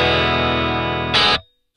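Electric guitar playing a blues tone through a Headrush pedalboard amp model with treble cut and mids and bass raised: a sustained distorted chord ringing, then a brighter strummed burst before cutting to silence.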